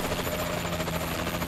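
Rotor-like thrumming of a Warbird aircraft arriving in Call of Duty: Advanced Warfare, a steady, dense engine drone that holds evenly throughout with no talk over it.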